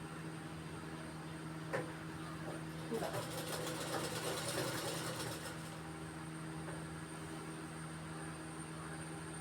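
A sewing machine stitches a cut churidar top in a home tailoring class with a steady, continuous mechanical whirr throughout, with a short louder burst of faster stitching partway through over a constant hum.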